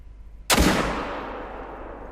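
One loud, close hunting rifle shot in the hunting game Call of the Wild, fired at a buck, a sharp crack after a quiet outdoor lull, trailing off into a long rolling echo.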